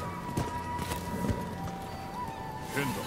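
Clip-clop of a horse's hooves while riding in the Rise of the Ronin video game, soft and uneven under steady background music and ambience, with no talking.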